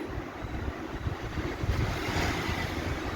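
Onion, garlic, curry leaves, coriander and dry chillies fry in hot oil, giving a steady, soft, wash-like hiss that swells slightly toward the end, with no voices.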